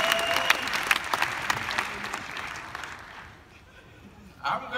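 A conference audience gives lively applause before a tech entrepreneurship talk, with brisk clapping that thins out and fades after about three seconds, followed by a brief noise near the end.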